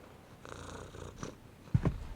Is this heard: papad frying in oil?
no